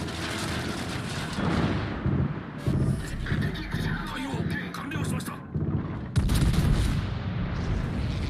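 Battleship gunfire in a naval battle video game, with a Japanese Nagato battleship engaged: repeated heavy booming salvos and rumbling blasts, with a loud burst near the end, layered over game sounds and talk.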